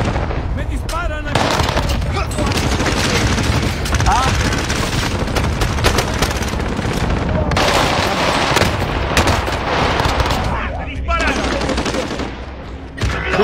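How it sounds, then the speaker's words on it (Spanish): Video game gunfire crackles in dense, rapid bursts and volleys, loud and nearly continuous, with a player talking over the shooting. "Me disparan"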